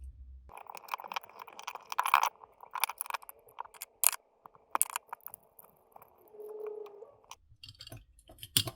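Small screws being undone from the circuit board of a sound meter, heard as scattered close clicks, ticks and scrapes of a screwdriver and plastic parts at an uneven pace with brief quiet gaps and no talk.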